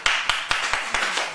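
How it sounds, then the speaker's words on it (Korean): A church congregation claps together during a worship service in a quick, even rhythm, several crisp claps close by. "박수 한번 쳐봐요"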